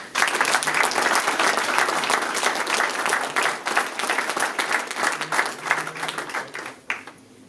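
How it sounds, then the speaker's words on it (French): Audience applause honoring a fire brigade flag guard at a Sainte-Barbe firefighters' ceremony in Pamiers, a steady dense clapping from a crowd that holds for several seconds, then thins and fades toward the end. "Je crois qu'on peut les applaudir."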